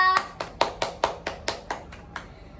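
A single person in a classroom clapping hands about ten times at an even, brisk rhythm, close and crisp, fading slightly toward the end.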